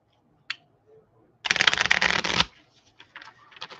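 A new deck of playing cards is riffle-shuffled at a table during a game day, a dense burst of fluttering card snaps lasting about a second, close and crisp, followed by lighter card handling and taps.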